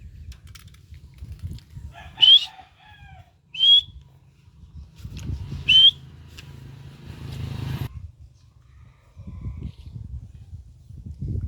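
Pet birds at their nest give a few bright, rising whistled calls, three distinct chirps spread over several seconds, close and clear above a low rumbling background of handling and movement.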